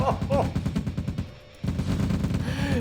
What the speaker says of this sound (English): 4 rifles, 4 rockets stacked and unloading into the face of a rifle stack